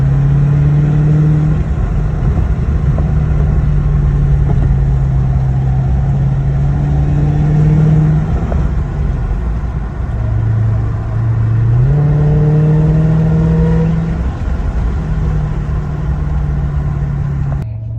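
Supercharged Dodge Hellcat driving through corners, a steady engine drone that repeatedly swells and eases as the throttle is applied and lifted, heard close from inside the car with no talk.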